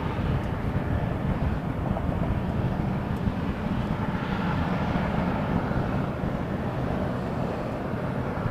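An Air Canada A321 airliner at Toronto airport rumbles with a broad, distant roar that holds steady throughout, joined by some wind noise and no voices.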